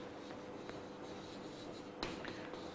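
Chalk or marker scratches out numbers on a board during an arithmetic lesson, soft rubbing strokes with a few sharper taps, near but quiet against a faint room hum, no talk.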